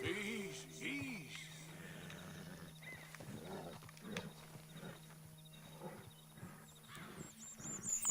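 Horse hooves clip-clop through the Red Dead Redemption 2 game world during a horse-taming mission, a steady hoof rhythm mixed with faint game ambience, animal calls and a low hum for about eight seconds.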